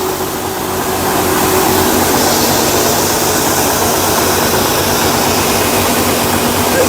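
A wheat cleaning machine runs loud and close, sifting reaper-harvested grain with a dense, steady mechanical roar and whir that holds constant throughout.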